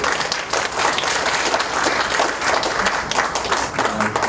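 Audience applause at a Pyeongtaek mayoral candidate debate, a dense roomful of clapping that stays loud and steady across the whole stretch, with faint murmurs underneath.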